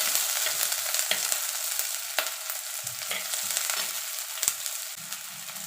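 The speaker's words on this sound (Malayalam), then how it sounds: "വെളിച്ചെണ്ണ ഒഴിച്ചതിന് ശേഷം അതിൽ 1/4 സ്പൂൺ ഉലുവ ചേർത്ത് മൂപ്പിച്ചെടുക്കാം." Fenugreek seeds frying in coconut oil for a fish curry give a close, steady crackling sizzle dotted with sharp pops and a few soft spoon scrapes, with no talking.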